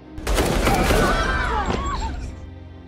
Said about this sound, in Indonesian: tiba-tiba ia ditembaki oleh kedua anak buah Egan yang membuatnya sekarat